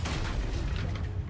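A Confringo blasting spell in Hogwarts Legacy lands as a heavy, booming rumble of explosive impact, loud and dense throughout a brief moment of combat.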